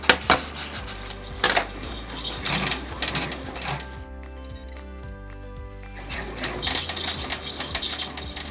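Close, fast, rhythmic mechanical stitching from an embroidery machine sewing a tack-down line on an Easter towel topper, with a brief pause and an electronic hum before the needle resumes.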